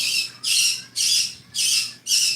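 Pet birds squawking loudly and close, four harsh, shrill calls in a steady repeating rhythm about half a second apart, with short quiet gaps between them.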